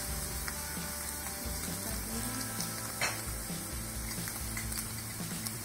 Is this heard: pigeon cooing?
no